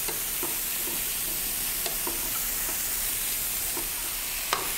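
Bone-in rabbit pieces browning in a pan with finely diced onion, a steady soft sizzle with occasional light taps and scrapes, close and moderately quiet.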